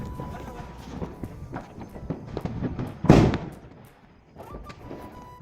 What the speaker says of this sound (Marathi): मग वारावाला स्काय शॉट असतात मित्रांनो, तो लावला, तो पण छानच फुटला।